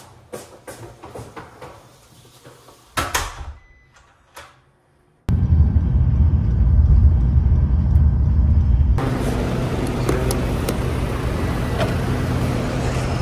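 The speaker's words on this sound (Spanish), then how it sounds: "Voy en taxi de coche, no en taxi moto, obviamente." A car taxi ride in Thailand: after some door thuds and handling noises, a steady loud engine and road rumble fills the cabin, shifting tone partway through as the ride continues, with no one speaking.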